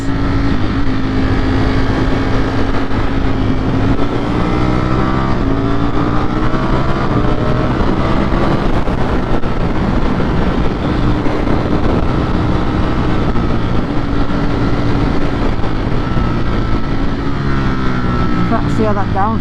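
Ducati Streetfighter V4S motorcycle engine droning steadily and loudly close by while downshifting, with engine braking pulling the revs down, wind rush throughout and a person talking over it.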